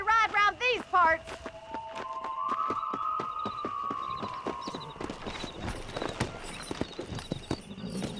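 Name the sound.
horse galloping hooves, from video game Red Dead Redemption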